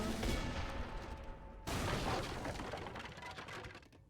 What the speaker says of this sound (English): You've got mortars attacking you in your base.